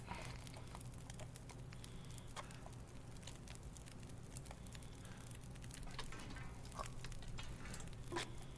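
Food frying over a fire during cooking in the survival game The Long Dark, a steady soft sizzling patter with faint crackles running evenly throughout.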